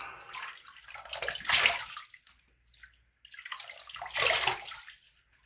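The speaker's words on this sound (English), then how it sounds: "Let's rinse." Tap water splashing in two separate bursts while a Krisp safety razor is rinsed after a shave, close and moderately loud with a quiet pause between.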